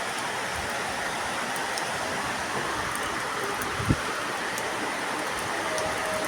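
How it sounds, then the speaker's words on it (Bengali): Heavy first rain of Boishakh pouring down in a steady, even hiss, with one brief low thump partway through. "দেখো বাপরে বাপ বৈশাখের বৃষ্টি"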